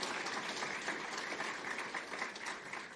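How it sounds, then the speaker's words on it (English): Applause from an audience at a public address, a dense even wash of clapping hands that holds steady throughout at moderate distance, with no talking over it. "a big round of applause"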